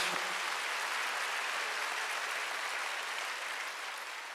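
A church congregation claps together in a steady, dense wash of applause that fills the room evenly and fades slightly toward the end, with no voices over it.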